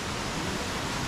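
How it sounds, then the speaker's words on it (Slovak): Jungle stream in hilly Dumaguete, Philippines, flowing as a steady dense rush of water, close and constant for the brief moment, with no voices. "ďalší potok"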